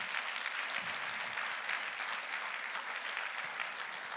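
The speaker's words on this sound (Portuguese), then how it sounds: "Vamos aplaudir a Jesus mais uma vez." A church congregation applauds in steady, dense clapping that fills the space evenly from start to finish, with no voices standing out above it.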